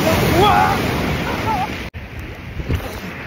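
Sea waves wash onto a Goa beach in a broad hiss of surf under heavy wind buffeting, with faint voices and a brief dropout partway.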